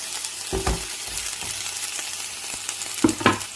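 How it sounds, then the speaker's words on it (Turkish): Oil sizzles steadily as chicken fries in a hot pan, with a few louder crackles and clatters as pieces are moved or stirred. "Şimdi tavukların bir tarafını kızartacağım."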